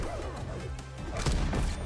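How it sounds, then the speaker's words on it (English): A down smash attack lands in the fighting game Multiversus, a heavy impact crash amid continuous game noise, with a louder burst of hits around the middle of the short span. "Nice down smashed there."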